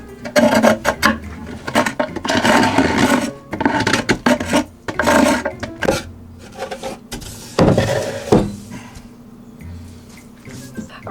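Residue is scraped off a wooden beehive box in harsh, rasping bursts of varying length, separated by short pauses, close and fairly loud.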